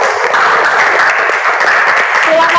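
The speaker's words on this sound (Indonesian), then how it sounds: "Kita beri tepuk tangan untuk berempat" A classroom full of students gives a steady round of applause for their presenting classmates, a dense continuous patter of many hands close by, with faint voices underneath.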